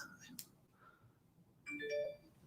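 A phone chimes with a short tonal notification melody, faint and close, heard behind a quiet room during a Jenga game with light talk around it.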